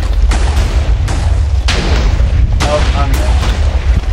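Explosions in Minecraft Hypixel Party Games, loud booming blasts over a dense, constant game din, with several sharp bursts in quick succession.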